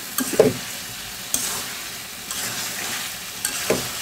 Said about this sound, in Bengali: আরও একটু কষিয়ে নেব